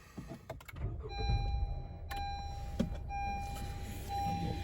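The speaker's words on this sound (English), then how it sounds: "I will start the car up." A 2018 Honda CR-V EX-L engine starting from inside the cabin: clicks and a rising whir of the starter, then a steady low idle hum with a faint electronic chime tone, close and moderately loud, no talk.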